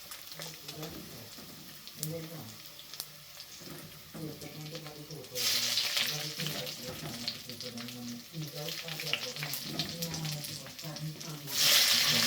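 Chicken back meat sizzles in a pan under a person talking throughout, with louder bursts of hissing or running water breaking in twice.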